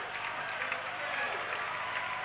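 High school basketball crowd at a 1992 Rockford Guilford game cheering and applauding, with steady, distant-sounding applause and crowd roar under a voice talking.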